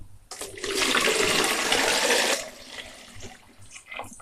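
Water pours in a loud, splashing rush for about two seconds, then tapers off to quieter trickles and drips.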